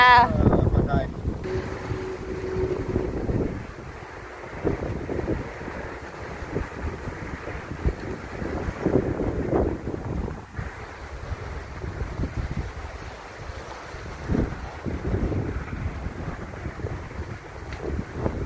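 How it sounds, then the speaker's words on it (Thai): Wind blowing outdoors in a garden, a steady, gusty rumble that swells and dips close to the microphone, with voices faintly mixed in. "ลมแห้งแห้งเลยจ้ะ ลม ลม"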